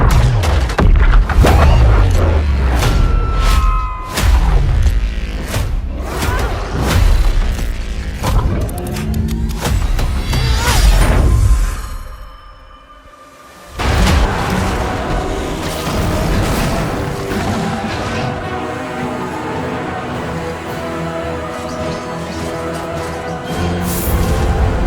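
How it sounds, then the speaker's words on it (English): Explosions go off one after another in a dragon video game with flying combat, loud deep booms and blasts stacked densely for about twelve seconds, a brief lull, then a rumbling layered game soundscape that runs to the end. "We sure cause a lot of explosions."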